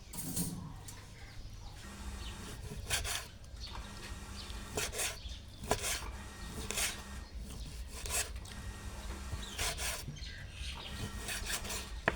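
Repeated scraping cuts of a knife through grilled beef on a board, a series of short rasping strokes at an uneven rhythm, close by.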